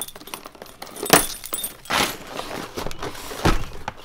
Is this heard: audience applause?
no